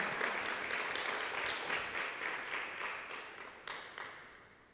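Church congregation applauding during a Wednesday teaching service, a moderate spread of hand claps that gradually thins and fades, heard at a fairly low level with no speech.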